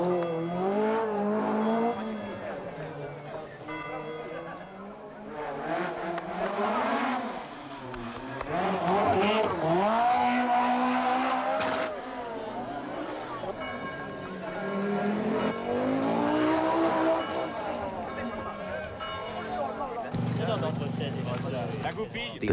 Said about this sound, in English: The 205 Turbo 16 is a pure racing machine, uncompromisingly designed for the demands of the sport.